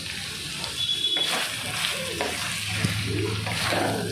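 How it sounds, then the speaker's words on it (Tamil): Chicken sautés in a pan for a simple home lunch, giving a soft, continuous sizzle with occasional stirring scrapes throughout. "எனக்கு தேவையான அளவுக்கு சிக்கன் நல்லாவே வதங்கிடுச்சு"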